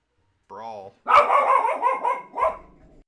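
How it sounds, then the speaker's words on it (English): A female dog gives a short whine, then a run of loud, close barks in an uneven burst, tapering off near the end. "Dog's letting her opinion be known."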